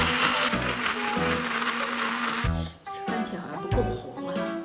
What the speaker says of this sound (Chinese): 用搅拌机把它打碎。